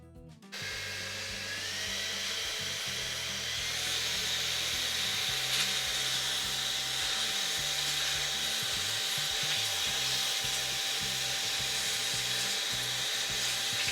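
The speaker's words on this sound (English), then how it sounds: "I'm going to dust out the actual fan and everything" Compressed air blowing dust out of the cooling fan of a One X Player F1 Pro handheld gaming console during a teardown: a steady, close hiss of rushing air that runs continuously with no talking.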